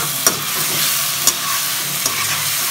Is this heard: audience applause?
no